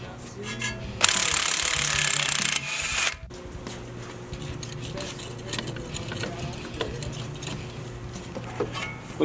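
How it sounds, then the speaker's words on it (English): A hand ratchet loosens the lower strut bolts from a car's steering knuckle, giving a close, busy clicking and metallic working noise with a brief louder burst of clatter early on, with no speech. "Now I'm pulling the lower strut bolts from the knuckle."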